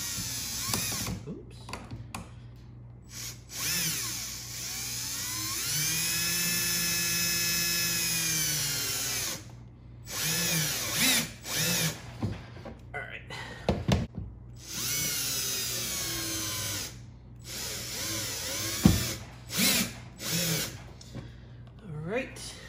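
A cordless power drill set to a medium clutch drives screws into pre-drilled holes on a Hobie Compass kayak, whirring in several bursts that rise and fall in pitch close up, with pauses between.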